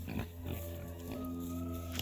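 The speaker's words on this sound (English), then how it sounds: "Pigs are just so happy lying in the dirt, rooting in the dirt." Pigs grunting and oinking while lying and rooting in the dirt of a new field on a farm, low snuffling grunts repeating in a steady close chorus with no talk.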